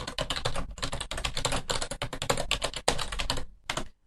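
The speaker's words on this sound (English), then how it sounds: "Then type in the name of the new task." Task name typed on a computer keyboard, a quick, close run of irregular key clicks with brief pauses that stops just before the end.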